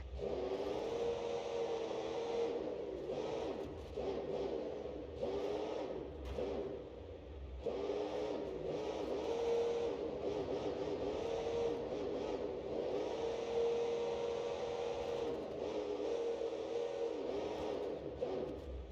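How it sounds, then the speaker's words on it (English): A homemade diesel built from a Ford 540 cubic inch engine runs in BeamNG.drive, a low, faint, steady drone that swells and dips in regular surges as it works through gears, with no talk. "we have created our own diesel out of the Ford 540 cubic inch motor"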